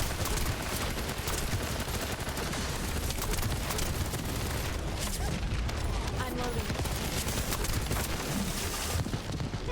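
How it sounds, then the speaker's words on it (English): Rapid gunfire from a blade pistol in the video game Starfield rattles continuously and loudly amid dense combat noise, with voices talking throughout. "That's the blade pistol."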